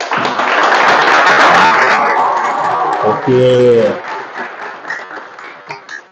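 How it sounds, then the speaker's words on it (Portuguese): Lecture audience breaks into applause for several seconds, a dense clapping wash that tapers off near the end, with a voice speaking over it. "Eu queria pedir uma salva de palmas para Paulo Freire, pessoal."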